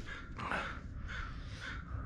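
Three harsh crow caws come from outdoors at a West Coast USA home, evenly spaced across the stretch, faint against steady low background rumble.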